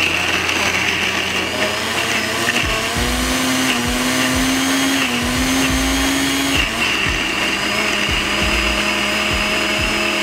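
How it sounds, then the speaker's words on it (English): A blender roars loudly and continuously while chunks of ice rattle and crack against the blades in irregular bursts. "this is probably my first blender that can actually blend ice"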